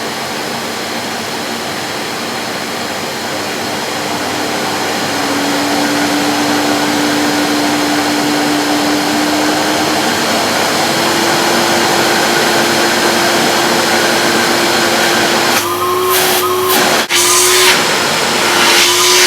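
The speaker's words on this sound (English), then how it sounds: "That's quite a pleasant sounding vacuum cleaner" A vintage Hoover Alpina 2 SC186 1300-watt cylinder vacuum cleaner runs steadily and loudly nearby, its motor whine rising in pitch and holding, with a few bumps and sputters near the end.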